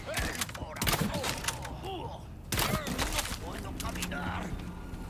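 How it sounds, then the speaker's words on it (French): Enemy gunfire from above in the Resident Evil 4 remake, scattered shots and thuds amid busy game noise and music, with someone talking over much of it. "Je sais pas qui c'est qui me tire de là-haut"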